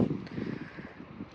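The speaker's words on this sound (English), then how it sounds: "It's super windy today." Strong wind at a remote off-grid cabin in Alaska, a steady low rumbling buffet of gusts across the microphone with no talking.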